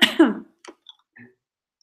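A few close coughs and throat-clearing sounds from a woman with an irritated throat, a burst up front followed by small scattered hacks that trail off into near silence.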